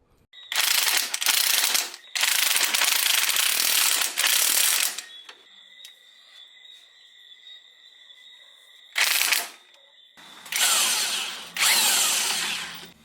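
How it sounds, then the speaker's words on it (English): A power tool driving a strut mount bolt during a strut mount replacement, loud close whirring bursts in several runs with brief pauses between, a whining tone lingering in one gap. "I was using the tool, the power tool"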